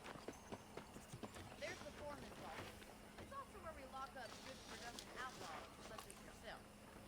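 Horse hooves clip-clop steadily in Red Dead Redemption as a ranch horse is ridden off, a rhythmic trotting patter with occasional snorts, quiet and under voices talking.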